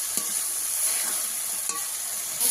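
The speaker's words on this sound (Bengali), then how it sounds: "দিয়ে ভালো করে কষিয়ে নিতে হবে।" Spice paste with ground cumin frying in oil in a pan while fish oil-jhal is cooked, a steady close sizzle with faint scraping stir sounds, no talk.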